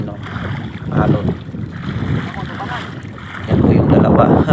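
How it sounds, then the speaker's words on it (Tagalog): Strong wind at sea roars over a boat in loud, uneven gusts that swell sharply toward the end. "So malakas talaga ang hangin alon."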